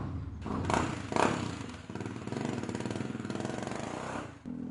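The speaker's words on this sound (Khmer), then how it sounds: "មកដល់មុខផ្ទះគ្រូរោម៉ូតូឲ្យខ្លាំង" A motorcycle engine is revved hard in front of a house, loud close throttle bursts followed by a sustained rough engine drone.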